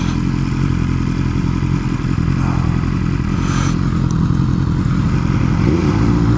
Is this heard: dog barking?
no